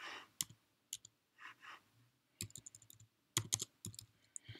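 A computer mouse clicks in short, crisp taps, some single and some in quick pairs, close and quiet in a still room with no speech.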